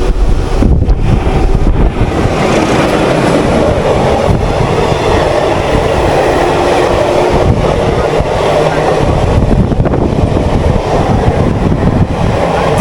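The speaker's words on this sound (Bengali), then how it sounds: "ট্রেনটা আবার স্লো হয়ে গেল, কারণ সামনে আরেকটা এক্সপ্রেস আসছে।" A Howrah–Digha local train slows down to let an express pass, recorded from on board with heavy wind buffeting the microphone. A loud, continuous roar of wheels and carriage rumble persists throughout.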